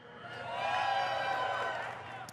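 An audience at a BlizzCon 2017 Hearthstone Q&A cheers briefly, a swelling mass of voices and whoops that peaks and fades within a couple of seconds.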